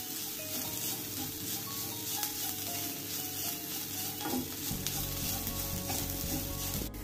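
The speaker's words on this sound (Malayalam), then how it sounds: "ഇനി 1/2 ടീസ്പൂൺ മഞ്ഞൾപ്പൊടി ചേർത്ത് കൊടുക്കാം. ഇത് നന്നായിട്ടൊന്ന് ഈ മഞ്ഞൾപ്പൊടിയുടെ പച്ച സ്മെല്ല് മാറുന്ന വരെ നമുക്ക് വഴറ്റിയെടുക്കാം" Turmeric powder sautéing in a hot pan for an okra and egg stir-fry, a steady close sizzle with continuous stirring and scraping throughout, no voices.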